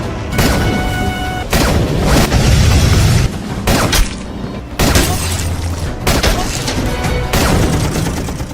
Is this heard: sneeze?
no